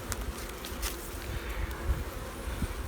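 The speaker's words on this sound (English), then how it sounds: "there's still bees in this third box" Honey bees buzz inside a hive box during a late-season inspection, a steady close hum with a few louder passing buzzes over it.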